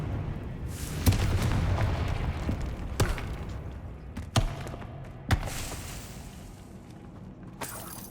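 A Confringo blasting spell fired in the Hogwarts Legacy video game, with several sharp, loud explosive booms spaced a second or two apart over a steady rumbling game background.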